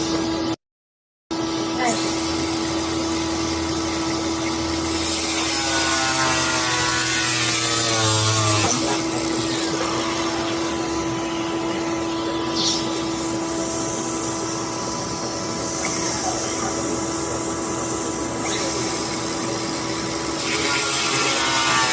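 A tool cutting the exhaust grill mount on a C8 Corvette, a loud continuous buzzing and grinding whine with a steady tone and shifting rasp as it bites, stopping briefly near the start and easing at times.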